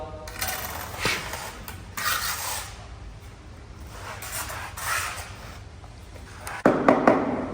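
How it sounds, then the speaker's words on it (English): A steel bricklaying trowel scrapes excess mortar from a quoin corner, with several gritty metallic scrapes and taps close by. A sharper clatter and ring near the end may be the trowel striking brick. "Get rid of the excess mortar."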